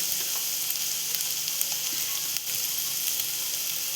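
Asafoetida dropped into hot oil, producing a steady, dense sizzle that stays even and close throughout with faint crackles and no talking.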